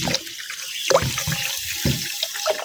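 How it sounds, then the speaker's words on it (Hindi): Water runs into a jug for peach juice, a close gurgling pour with uneven splashy surges and no talk. "अब मैं इसमें जग में पानी भी डालूंगी"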